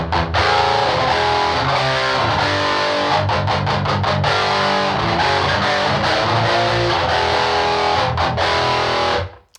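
Heavily distorted electric guitar plays through the high-gain channel of a Synergy 2CP preamp module, dense chugging riffs with choppy palm-muted stops, loud and close, ending in an abrupt cutoff.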